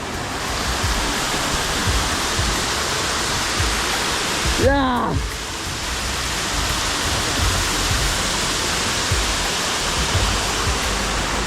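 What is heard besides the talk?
Lanka Ella waterfall at Upper Babarakanda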